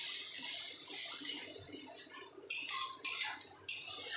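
Water poured into a pan of Tangra fish curry, a steady broadband pour for a couple of seconds, then short splashing bursts and clinks, close and fairly quiet, no voices.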